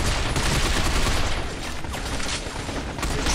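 Dense, continuous gunfire in the shooter Binary Domain, rapid overlapping bursts of automatic weapons rattling loudly and without pause, like a sustained firefight.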